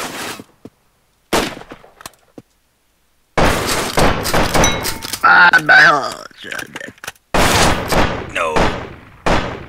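Video game shotgun blasts and gunfire come as sharp, loud bursts in clusters, separated by silences, with players talking over and between the shots.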